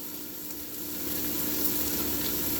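Onion and garlic sizzling in a pan for butternut squash soup produce a steady, close hiss that swells slightly louder partway through, with no voices.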